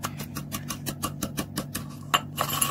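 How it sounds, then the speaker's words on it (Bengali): Sugar pounded in a mortar and pestle, a steady series of about a dozen evenly spaced metallic thuds close by, with a faint hum underneath and a brief louder clink near the end. "আমরা চিনিটা ঢেলে নিচ্ছি হামান দিস্তাতে"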